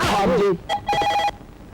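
A short electronic telephone ring sounds in two bursts after a voice stops speaking, clear and close.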